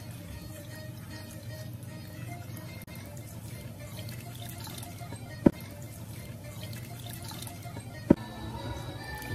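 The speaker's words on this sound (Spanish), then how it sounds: "Luego de sacarla del agua hirviendo, le vamos a agregar nuevamente agua fría." Cold water is poured over boiled potatoes just taken from boiling water, a continuous splashing, running-water wash with a couple of sharp knocks.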